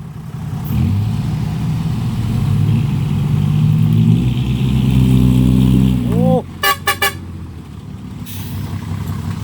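A stuck six-wheel dump truck straining in mud as it is pulled out, its engine roaring loud and steady under voices for several seconds, then a few short honks near the end.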